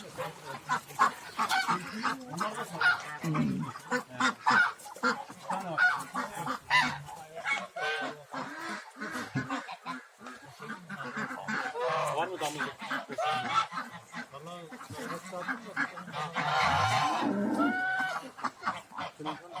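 Domestic geese, native and crossbred hens, honking repeatedly in a village poultry yard alongside ducks, dense overlapping calls near and loud, with someone talking at times between them.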